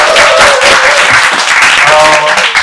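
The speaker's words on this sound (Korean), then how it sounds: "여러분 박수 한번 다시 부탁드립니다." An audience of parents applauding at a lecture in a Korean medicine clinic waiting room, a loud, close burst of clapping from many hands that holds steady for a few seconds, with faint voices underneath.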